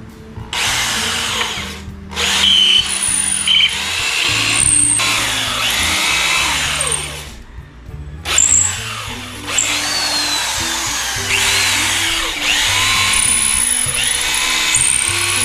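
A power drill bores into old reclaimed wood for furniture, loud and close, with whining motor bursts that rise and cut out in several long runs.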